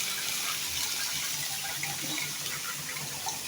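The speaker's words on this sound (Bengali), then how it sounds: "সুন্দর করে কেটে ধুয়ে নিলাম" Cut leafy greens being washed under a running tap, a steady rush of water with light splashing, faint and continuous throughout.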